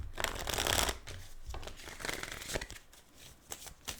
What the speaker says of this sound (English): Let me just do the shuffles here.